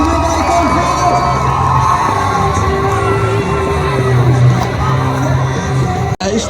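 A crowd cheers and whoops at a van banger race at Lochgelly Raceway in Scotland, a steady loud roar of mixed shouting voices that rises and falls, then cuts off sharply near the end.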